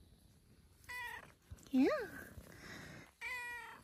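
A cat gives a few short meows close by, separated by brief pauses, with a quiet voice speaking briefly.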